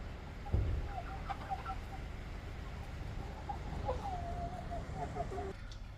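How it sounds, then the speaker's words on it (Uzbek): Roosters weighing 1.3 to 1.6 kilos inside a new poultry house, clucking and crowing softly at moderate distance over a low steady hum, with a thump at the start. "Mana xo'rozlarimiz"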